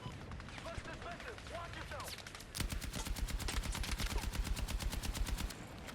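Automatic gunfire in the video game Battlefield REDSEC: scattered distant shots at first, then a sustained close rapid burst of rhythmic firing for about three seconds before it stops.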